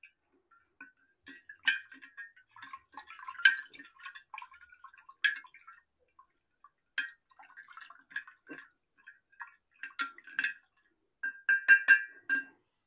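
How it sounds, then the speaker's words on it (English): A utensil stirs in a container to dissolve sugar crystals for strawberry banana wine, giving soft, irregular clinks and ticks in scattered clusters against near silence. "I'm going to stir a little longer."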